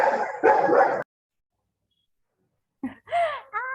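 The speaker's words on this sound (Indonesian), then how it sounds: "Ada anjingnya menggonggong." A dog barks in the background during an online class. A voice talks first, then there is a gap of silence before a few short, high yips and barks come through near the end.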